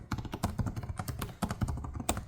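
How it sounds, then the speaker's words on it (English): Typing on the keyboard of a Lenovo Legion Slim 5 14-inch OLED Gen 8 gaming laptop: a rapid, uneven run of crisp, close key taps with no voices. "these keys, holy moly do they feel good to type on"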